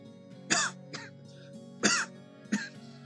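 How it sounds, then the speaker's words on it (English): A person with a lingering cough clears their throat and coughs in four short, close bursts, two stronger than the others, over a steady background hum during a game stream. "Sorry, I have this cough still."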